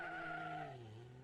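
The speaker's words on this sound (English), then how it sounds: "lights the tyres up coming off the line" A Nissan Silvia S80 drift car with a 1JZ engine spins its tyres off the start line in a British Drift Championship qualifier, a brief distant tyre squeal with a falling engine note.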